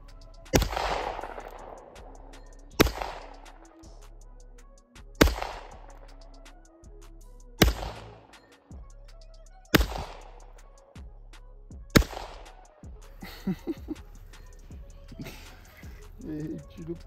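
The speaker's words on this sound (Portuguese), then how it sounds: "vamos tentar partir essa bola com o restante da munição aqui" Six loud gunshots ring out one by one, about two seconds apart, each a sharp crack with a ringing metallic tail, fired at a bowling ball outdoors. A person talks between some of the shots.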